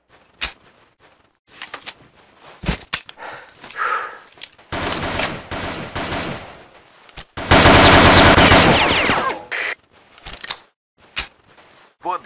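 Bursts of rapid automatic gunfire, loud and close, mixed with single shots and clicky mechanical noises, with a sustained heavy barrage partway through.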